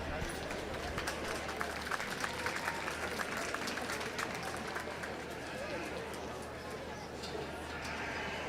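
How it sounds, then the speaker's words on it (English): Sustained applause from the audience at a youth livestock show's lamb class in Gillespie County, 2021: dense, steady clapping throughout, with crowd noise and some voices mixed in. "Let's give them all a round of applause."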